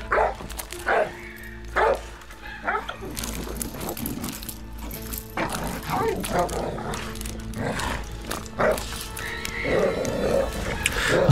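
Two dogs play tug of war with specially designed play cushions, growling and barking in repeated bursts against a steady low rumble, with a person talking throughout.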